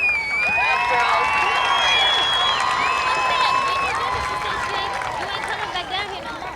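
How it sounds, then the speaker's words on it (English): A high school football crowd at TA Cotton Ford Stadium cheers and applauds steadily, mixed with excited high-pitched shouting and clapping that fade slightly toward the end. "Let's give these future cheerleaders a round of applause."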